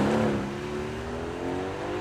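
A Mercedes-AMG supercar with a 4-litre twin-turbo V8 up front at an outdoor supercar show, a loud, close engine drone that revs and then settles and holds steady, with no voices.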